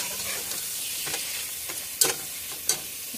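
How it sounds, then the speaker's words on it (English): Braised pork belly cooking in a pan, with a continuous bubbling sizzle and a few sharper clinks and stirring scrapes over it, close and fairly loud, with no talking. "Let it simmer for a few minutes"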